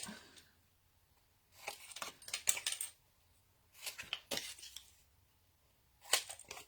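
Scissors snip paper for a chocolate explosion-box craft in three short bursts of crisp cutting, close and fairly quiet, with near silence between them.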